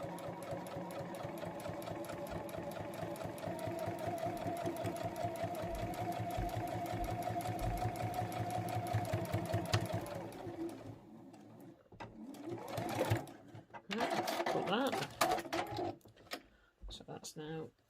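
A domestic sewing machine back tacking a seam on a crossbody phone pouch, running as a steady rapid stitching whir for about ten seconds, then stopping, followed by handling and rustling noises and someone talking.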